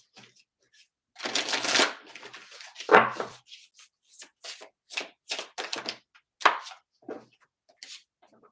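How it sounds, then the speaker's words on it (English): Oracle cards from the Voyage of the Soul deck are shuffled by hand in short riffling bursts and soft taps, close and crisp against near silence, with no talking. "we're going to grab a few from the Voyage of the Soul Oracle"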